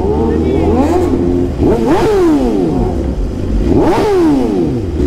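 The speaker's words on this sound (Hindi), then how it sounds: "अरे बाप रे टनल में लाउड लाउड बाइक्स" Several loud motorcycles revving hard inside a tunnel, engine notes sweeping up and down in repeated surges with echoing roar, close and very loud.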